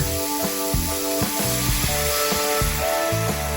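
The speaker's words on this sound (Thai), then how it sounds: "พอเราผัดไปสักพักนะคะ ก็ให้เติมน้ำเปล่าลงไปค่ะ" Water hits a hot pan of stir-fried tofu and baby corn and keeps up a steady hiss and sizzle, with a regular pulsing rhythm and tonal sounds in the background.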